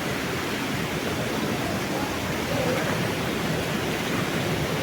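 A steady, dense rush of river water fills the whole clip, close and loud with no pauses, heard from within the water.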